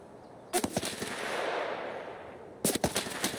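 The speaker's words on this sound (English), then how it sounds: "Scav was shooting at me" Gunfire from a Scav in the Escape from Tarkov video game: two bursts of rapid, loud shots, one near the start and another near the end, separated by a couple of seconds of steady background hiss.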